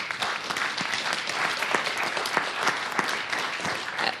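Sustained audience applause for a group of educators at a talk by Father Guy Gilbert on animal-assisted mediation, a dense, steady clapping of many hands with no speech over it.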